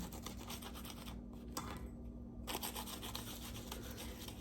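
A salted toasted crouton is rubbed with garlic, giving close, rhythmic dry scraping strokes with a brief pause in the middle.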